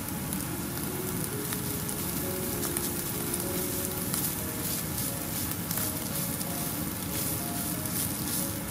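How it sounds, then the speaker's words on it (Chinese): Diced bamboo shoots, mushrooms and pickled mustard stir-fried in a hot wok, a steady dense sizzle and crackle of oil running without a break, close and fairly loud, with no voices. "一两分钟后和笋丁一起炒匀，再下入香菇丁翻炒"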